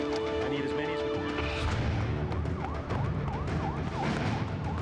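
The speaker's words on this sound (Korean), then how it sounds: "사방에서 사이렌 소리가 울렸습니다." Police sirens wail in repeated yelping sweeps amid a dense, noisy background, with voices talking over them.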